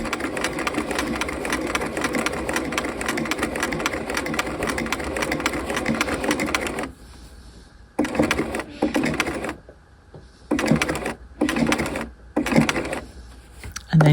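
A sewing machine stitches a bound buttonhole on a half-scale jacket, running in one long steady close burst, then pausing and restarting in several short, quick spurts.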